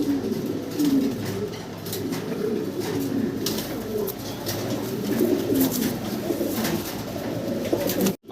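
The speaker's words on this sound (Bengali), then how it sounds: "ভাইয়ের কাছে এক জোড়া ম্যাকপাই পটার আছে অ্যালমন্ড কালারের ভিতরে" A pair of almond magpie pouter pigeons coo close by in repeated soft, throaty rolling calls, with faint rustling in the background.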